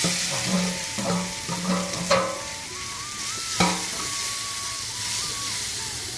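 Curry leaves and plantain frying in hot oil, a constant crackling sizzle with scraping stirs and clinks of a spoon against the pan close by. No one speaks.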